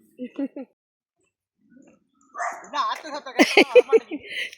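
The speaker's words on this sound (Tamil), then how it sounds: "அந்த நாய்கிட்ட சண்டைக்கு போகிறதே வேலை" Barking from village dogs in rural Sri Lanka, a few short yips early on, then louder barks and whimpers mixed with people talking nearby.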